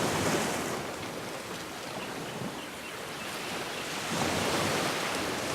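Ocean surf washing onto a beach at dawn, a steady loud broadband roar with a swell of louder wash near the end, no voices.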